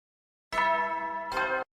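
A two-note doorbell chime from the video game The Hundred Line: Last Defense Academy rings once: a bright sustained first tone, then a shorter second tone. It is clear and isolated against silence.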